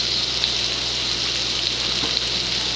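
Cornstarch, soy sauce, vinegar and water poured and mixed together for sweet and sour Spam, heard as a steady close watery gush and hiss with no talking.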